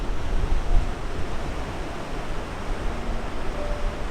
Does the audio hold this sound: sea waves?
yes